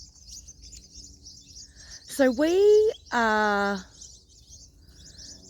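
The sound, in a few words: little birds chirping outdoors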